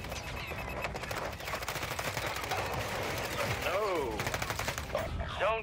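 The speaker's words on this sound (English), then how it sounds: "they're shooting at me from everywhere right here" Rapid automatic gunfire and scattered shots from several directions in the Warzone battle royale game, dense and continuous throughout, with sweeping whines and a voice talking underneath.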